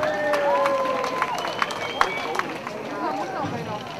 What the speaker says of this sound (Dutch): Solisten, dames en heren, geef haar een fantastisch applaus.